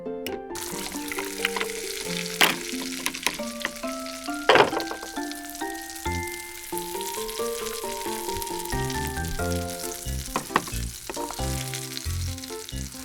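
Meatballs fry in a pan and are turned with a spatula, giving a continuous soft sizzle with a few sharper scraping clicks, under steady tonal music.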